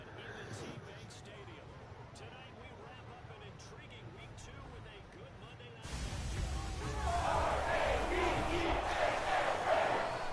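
A stadium crowd at M&T Bank Stadium in a Madden football game roars as the Ravens take the field, a steady murmur swelling into a louder, sustained cheer in the second half, with someone talking over it.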